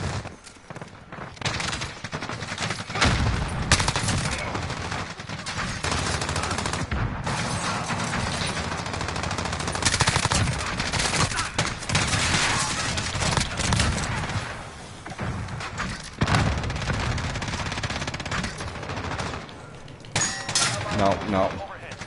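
Sustained automatic M4A1 'Grand Rapids' rifle fire in Call of Duty Modern Warfare, long rattling bursts with brief gaps across the whole stretch, loud and close, with a player's voice talking over it at times.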